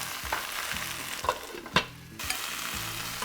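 Spinach and garlic sizzle in a pan, with a few brief scraping turns of a utensil rising over the steady, quiet frying hiss; no one speaks.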